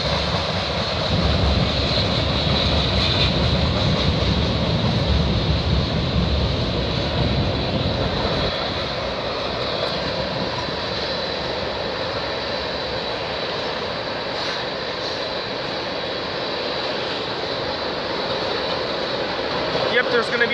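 A freight train with a distributed power locomotive rumbles past at close range, a loud continuous roar and rolling rail noise that holds steady from start to finish, with a bystander talking briefly over it.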